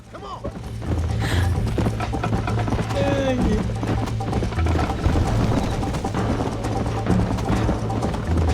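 Hooves of a galloping horse in Red Dead Redemption drum in a rapid, steady clip-clop that carries through the whole stretch, with voices talking over it.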